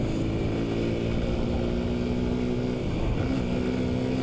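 A 2002 Honda Super Cub C50 motorcycle riding downhill, its small engine giving a steady, loud droning hum with a slight pitch shift partway through, heard up close with no talk.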